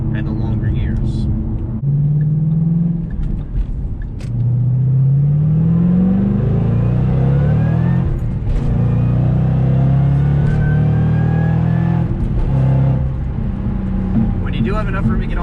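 A Shelby GT500 accelerates hard through long gears, its engine note climbing in repeated sweeps with rumbling exhaust over about fifteen seconds, someone talking over it throughout.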